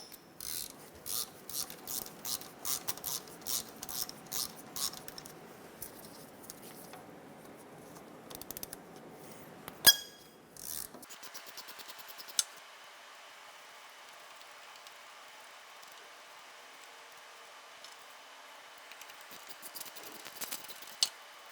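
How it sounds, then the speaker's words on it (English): Wrench or socket work on the two lower bolts of a 2007-2012 Nissan Altima AC compressor, with repeated quiet ratcheting clicks in bursts, then a sharp metallic clank and softer faint handling noises. "Using a 12mm wrench or socket, remove the two bolts off the bottom of the AC compressor."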